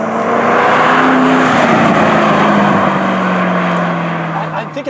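A Ford GT engine accelerating at half throttle: a loud, steady, powerful roar with a droning low tone that holds throughout and eases slightly at the very end.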